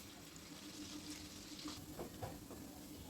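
Ginger-garlic paste frying in hot oil and butter, a faint, steady sizzle close by with light stirring scrapes toward the end and no voices.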